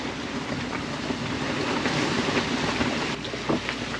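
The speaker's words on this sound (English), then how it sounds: "I can hear his engines. That's how close we are." Engines of a nearby ship at sea close on a collision course while sailing between the Tuamotus and Tahiti, a steady loud low rumble and drone with wind and water noise throughout, no talk.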